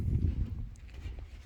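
Several horses walk over ground into a farm pen, their hooves clip-clopping in a soft, uneven patter at close range, with no one talking.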